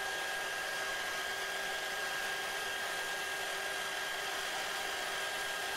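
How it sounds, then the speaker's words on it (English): Lathe running under heavy pressure during a lubricant friction test, a faint, steady, even whirring drone throughout with no talking. "We can begin to hear the effect the pressure is having on the lathe."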